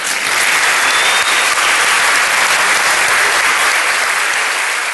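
Loud, dense audience applause for a singer, a steady unbroken wash of clapping from a large crowd that holds from start to finish with no voices on top.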